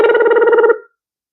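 A telephone bell rings in one loud burst of rapid trilling strikes lasting under a second, then cuts off into silence.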